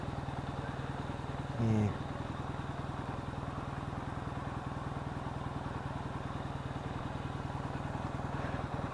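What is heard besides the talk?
Yamaha XS650 motorcycle engine running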